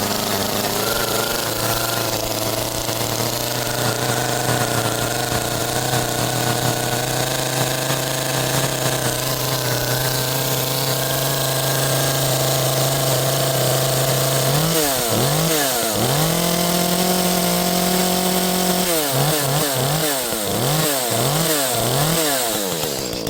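An Echo chainsaw idles and runs steadily with the choke on, its engine note slightly gurgly and uneven, then revs up and down in several quick bursts near the end, loud and close with no talking.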